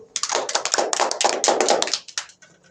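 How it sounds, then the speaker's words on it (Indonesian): Children in a classroom clap their hands together on cue, a burst of quick, close, overlapping claps that keeps up for about two seconds, then thins into a few last scattered claps. "Tepuk tangan dulu"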